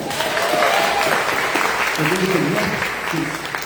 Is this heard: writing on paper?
no